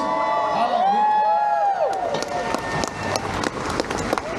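A convention panel crowd claps and cheers at a fan expo, a rush of dense applause and whoops filling the room under a voice on a speaker at the start.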